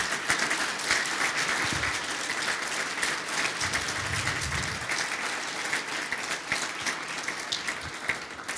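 A hall audience at a heritage society open house in Saint-Roch-de-l'Achigan gives a long round of applause, a steady, fairly loud clapping texture with low rumbles of movement partway through.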